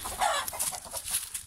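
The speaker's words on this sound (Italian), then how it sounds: "Eccole qua, le gallinozze." Hens in a backyard coop cluck in a quick, busy run of short bursts, fairly close and moderately loud, with no talking over them.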